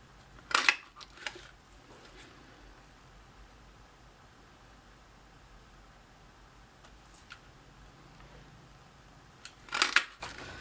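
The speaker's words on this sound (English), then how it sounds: "we're going to punch the smaller balloon" A craft paper punch snaps through cardstock twice, cutting balloon shapes, with a sharp crunch near the start and another near the end and quiet room tone between.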